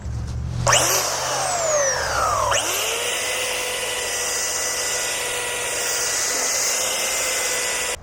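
A belt sander runs steadily and loudly while rounding square wooden boards into round stock, its whine rising sharply at the start and dipping once before holding a sustained high-pitched drone that ends abruptly.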